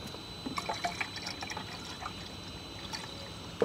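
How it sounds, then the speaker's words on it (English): Water trickles and splashes lightly as it is topped into the coolant expansion tank of a V8 Jaguar, faint intermittent pouring with small drips, quiet and close. "I will just top off the expansion tank with a little bit of water just to get the coolant up to maximum"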